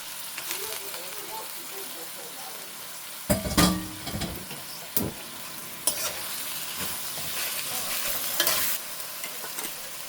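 Whole cardamom, cinnamon and bay leaves sizzle in hot oil in a pan for a beef curry, a steady frying hiss broken by a few louder bursts of stirring and scraping, with no talk over it.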